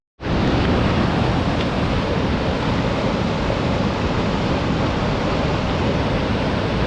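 A huge waterfall in the Mercantour mountains of the Côte d'Azur roars as a constant, loud, broadband rush that starts abruptly and holds steady, with no voices over it.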